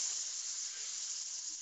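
Steady broadband hiss of stuffed chicken roll frying in butter in a hot pan, continuous and fairly close, with no talking.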